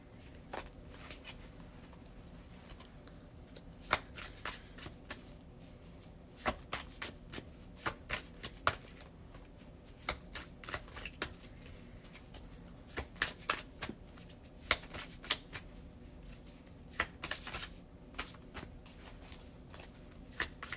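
Tarot cards being shuffled by hand at close range, with steady soft riffling broken by repeated sharp card snaps and taps over about twenty seconds, with no talking.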